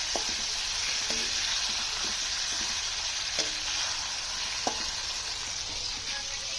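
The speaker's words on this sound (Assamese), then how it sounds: "এতিয়া বিলাহীখিনি অকণমান সিজাই ল'ম" Tomatoes sizzling and frying in a pan before meat goes in, a steady bright hiss throughout with a few soft clinks of stirring, fairly quiet and without talk.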